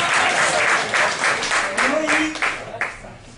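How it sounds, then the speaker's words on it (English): A small live-show audience at a comedy mind-reading performance claps for a woman volunteer, a brief burst of rhythmic applause that tapers off within about three seconds while someone talks over it. "So give this lady a round of applause"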